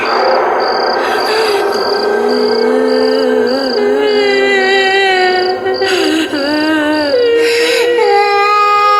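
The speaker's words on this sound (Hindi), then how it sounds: "पर जब हम अपने रूम में लेटे तो हमें रात भर बच्चों के रोने की आवाज सुनाई देती" Wailing cries of children used as a horror sound effect, several drawn-out, rising and falling sobbing tones layered over each other, loud and continuous with a high eerie whistle pulsing behind them.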